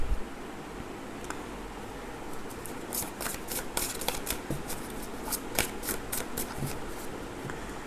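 Tarot cards from two decks being shuffled by hand, a steady run of crisp, papery riffling bursts that grows denser midway, close and fairly loud over a low background hiss, with no voices.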